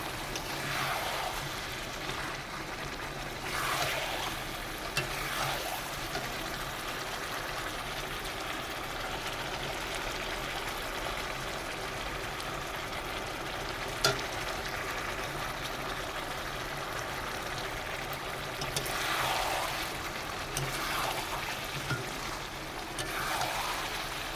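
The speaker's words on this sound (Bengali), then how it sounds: "সমস্ত মশলা দেওয়ার পরে আমি ভালোভাবে নেড়ে নিচ্ছি" Spiced chicken curry being stirred in a pan gives a steady, even sizzling hiss that continues with little change throughout, with no voices.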